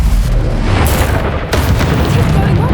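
An explosive Bombarda or Confringo spell bursts in Hogwarts Legacy, a loud, heavy boom that rolls out in two big blasts over the game's combat noise.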